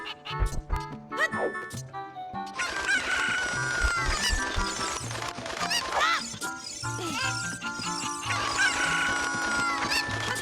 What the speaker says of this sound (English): No, come back, chicken.